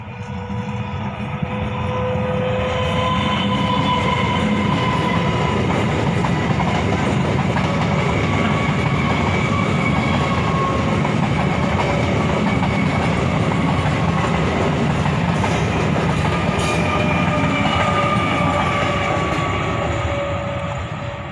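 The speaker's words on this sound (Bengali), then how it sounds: "আর ট্রেনটা এখন কাশীনগর স্টেশন থেকে ছাড়লো, শিয়ালদার উদ্দেশ্যে ট্রেনটা যাচ্ছে।" A train pulls out of Kashinagar station heading for Sealdah, a steady close rumble of wagons with faint clickety-clack running continuously for the whole stretch, with no voices.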